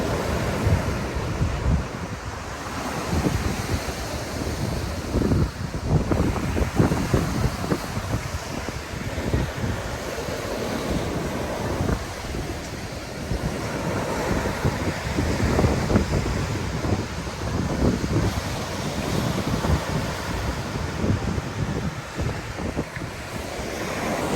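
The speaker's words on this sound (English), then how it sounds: "This is the beach here." Waves break and wash onto the beach at Jumeirah in Dubai, beside the Burj Al Arab, in a steady continuous roar mixed with gusty wind buffeting the microphone, fairly loud throughout with no talking.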